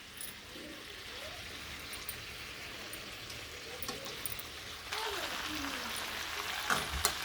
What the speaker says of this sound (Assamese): আৰু এতিয়া মই ঢাকনি নিদিয়াকৈ মাংসখিনি ল' ফ্লেমত ভাজি থাকিম